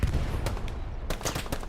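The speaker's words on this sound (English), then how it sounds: "Oh, Medi, the machine gun, is getting good shots on it." Machine gun fire during a multiplayer World War II shooter match, short rattling bursts of gunfire with sharp cracks, fairly loud amid battlefield noise and no talking.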